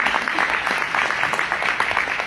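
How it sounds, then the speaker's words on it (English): Audience applause at the opening ceremony of a farm, ranch and hemp expo in Great Bend: a steady, dense wash of many hands clapping at once, fairly loud and continuous throughout. "Yes, give her a round of applause."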